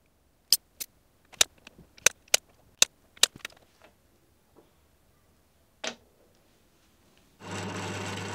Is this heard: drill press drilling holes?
yes